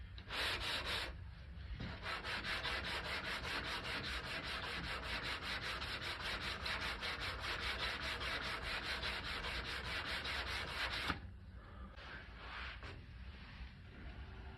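Filler putty being sanded by hand with a sanding block, fast rhythmic back-and-forth rasping strokes that run steadily for about eleven seconds, then a pause and a few lighter strokes, close and clear with no talk.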